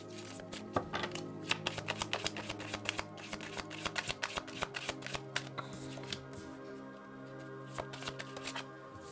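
Life purpose and money oracle cards being shuffled, a fast run of dense snapping riffles that continues for about nine seconds, close and quiet over a faint background tone, with no one talking.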